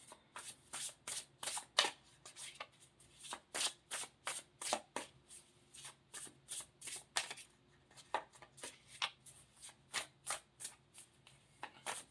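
A Wandering Star Tarot card deck is shuffled by hand in quick, repeated riffling bursts, close and fairly quiet, with no talking.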